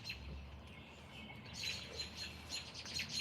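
Birds chirp outdoors on a cold, crisp night, with quick high tweets clustering in the second half. The calls are moderately faint and rise over a steady low ambient rumble.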